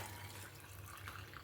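Boiled cooking water is poured into ground tomato paste for tomato dal rasam, making a steady, soft watery trickle from start to finish with no voices.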